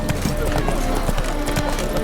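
Horse hooves clatter in a quick galloping rhythm in The Witcher 3: Wild Hunt, close and loud, with game voices or speech overlapping the hoofbeats.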